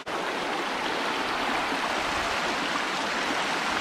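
Steady rushing water of a creek on the Buffalo National River in Arkansas flowing nearby, a constant broadband wash with no pauses and no voices.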